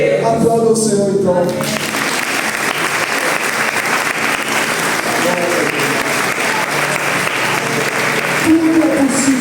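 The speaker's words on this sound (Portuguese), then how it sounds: "Aplauda o Senhor então." Church congregation applauding the Lord at a service, a loud, steady wash of clapping from many hands that fills the room for most of the span, with voices and sung or spoken tones heard briefly at the start and end.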